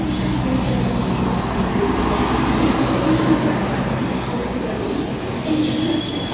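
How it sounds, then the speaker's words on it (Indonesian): A KLB special train, hauled by a CC206 locomotive, prepares to depart Gambir station for Cirebon, giving a steady, loud rail rumble with faint high wheel squeal throughout. "KLB persiapan berangkat dari stasiun Gambir menuju Cirebon"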